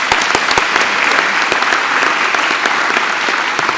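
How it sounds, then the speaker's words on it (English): Audience at a community foundation's fall grant ceremony breaking into applause, a full, even roar of clapping with a few sharp, distinct claps standing out near the front, loud and sustained throughout. "Round of applause."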